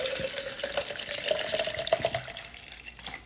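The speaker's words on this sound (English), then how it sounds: "So I just fill this up with water" Water runs from a tap into a water bottle, a soft steady trickle with a rising tone as it fills, quiet and close.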